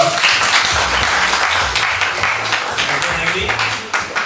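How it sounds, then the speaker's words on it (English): Workshop audience claps for a speaker, a dense, loud wash of applause sustained for several seconds with voices talking over it. "Can we get a round of applause for Jordan, please?"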